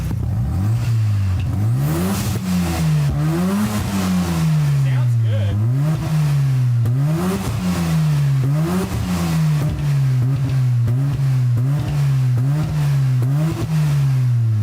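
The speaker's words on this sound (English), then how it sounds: "The engine is amazing. We started a few times and revved." A Mazda RX-7 FD engine revs repeatedly, its pitch climbing and falling in steady surges throughout, loud and close; a voice briefly speaks over it.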